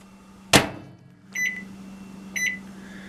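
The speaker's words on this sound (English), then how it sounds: "they go into the microwave." A microwave oven heating chocolate candy dips: a sharp clunk of the door or button, then a steady low hum with two bright electronic beeps about a second apart.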